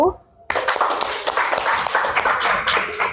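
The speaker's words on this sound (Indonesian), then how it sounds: "Kita beri tepuk tangan untuk kelompok 1" A classroom group of students receives applause, with a burst of many hands clapping that starts abruptly and carries on steadily at close range, with some chatter mixed in.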